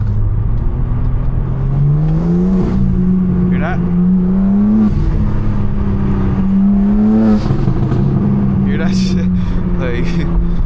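A BMW M4 Competition fitted with front mount intakes revs repeatedly, its loud, close engine note climbing and falling in several pulls with intake whoosh and whine on top.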